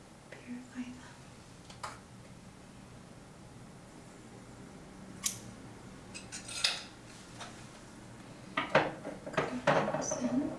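A pair of scissors is handled close up in a hushed reiki ASMR role-play, giving scattered soft clicks, taps and metallic scrapes over a quiet hiss, with faint whispering in the background.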